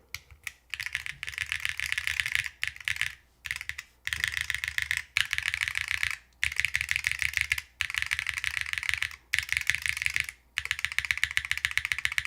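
Rapid, steady typing on a custom Hall effect keyboard fitted with PBT keycaps, close and clear, in bursts separated by short pauses, with no voices.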